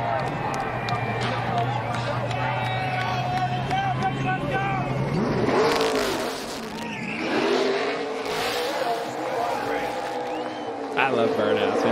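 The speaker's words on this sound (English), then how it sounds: "He's warming his tires up for it." A NASCAR race car at Phoenix Raceway warms its tires before a burnout, its engine droning and revving loudly with rising and falling pitch and tire noise, under ongoing commentator talk and crowd noise.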